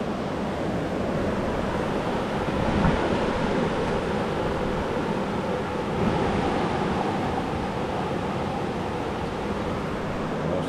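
Steady roaring typhoon wind mixed with a continuous rush of rising floodwater in a subdivision in Cebu, Philippines, loud and broadband throughout, with no voices.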